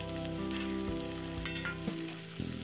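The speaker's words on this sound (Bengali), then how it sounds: "এবার সবজিটাকে একটু নেড়ে নেব।" Vegetables for fried rice stirred and fried in a pan with a little ghee make a loud, close sizzle with scraping stir strokes and clatter, and a steady hum underneath.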